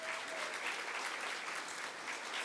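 An audience applauds at an indoor gathering, a steady wash of many hands clapping at once, fairly quiet and unbroken across the short stretch.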